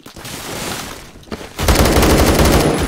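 AK-12 rifle fire in the Roblox shooter Phantom Forces, a sustained burst of rapid automatic shots that starts softer and grows loud and dense midway, close and continuous with no talk.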